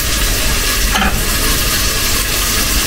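Bell pepper frying in a pan, a loud, steady sizzle running throughout, with a brief scrape of a utensil stirring about a third of the way in; no voices.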